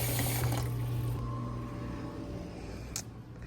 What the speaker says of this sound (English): last morning chore is to water the plants.